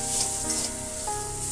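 Paneer filling with garam masala and kasuri methi sizzles steadily in a hot pan, a close, continuous frying hiss with faint stirring scrapes and no voices.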